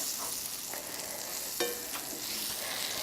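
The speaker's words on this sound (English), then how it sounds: "So we're going to melt this butter until it's almost completely melted." Butter melts in an iron skillet with a soft, steady sizzle. A single sharper clink of a utensil sounds partway through, and no one speaks.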